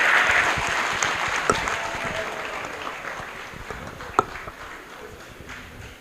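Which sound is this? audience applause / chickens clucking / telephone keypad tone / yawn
audience applause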